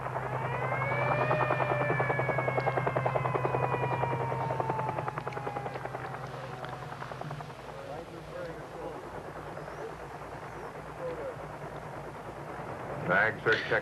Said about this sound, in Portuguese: Os votos chegam aqui de helicóptero.